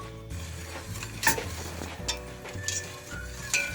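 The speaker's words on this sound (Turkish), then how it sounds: "Muhallebi kıvamına gelene kadar, koyulaşana kadar karıştırıyoruz." Milk pudding stirred in a pot on the stove as it thickens, a spoon scraping and clinking against the pan in intermittent strokes over a low steady hiss, close by and without speech.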